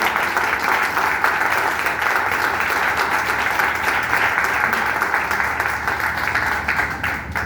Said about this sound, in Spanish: Yo quiero que le dé un fuerte aplauso al Señor